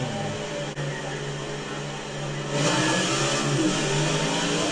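A NASCAR race car engine in NASCAR 14 holds a buzzing idle at the pole position, then surges into a loud, rising rev as the race starts, with no voices.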